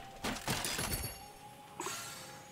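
Jars smashed in the Dwerve video game, with two or three bright shattering crashes close together early on and another break near the end, over faint background music.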